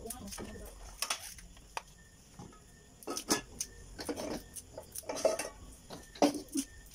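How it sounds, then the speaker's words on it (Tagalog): A metal cooking pot is handled in an outdoor kitchen while jackfruit is being prepared, giving scattered clanks and scrapes in short bursts, with some quieter gaps between them. "Hindi yan, yung kaldero, pag pipigaan ko nito."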